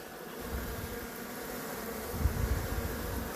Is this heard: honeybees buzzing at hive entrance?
yes